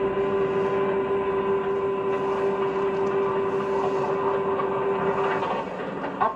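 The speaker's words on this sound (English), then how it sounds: "Freight train number 40 is carefully winding its way through the many tracks that lead out of the freight station." A 1950s freight train rolls slowly through many tracks leading out of a freight station, with a steady rumbling clatter and a sustained whistle-like tone over it. No one speaks.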